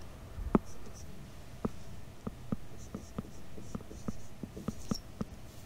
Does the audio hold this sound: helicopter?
no